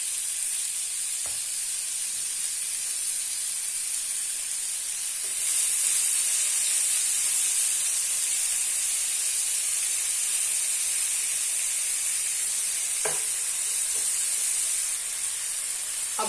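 Fennel seeds sizzle steadily in a lightly heated, greased pan, a continuous bright hiss that swells a little midway, with a few faint clinks and stirs and no talk.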